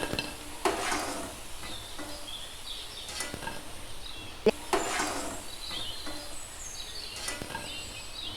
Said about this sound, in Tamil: நல்லா பொன்னிறமாக ஆகணும் வேகட்டும் வெந்துருச்சு எடுத்துடலாம்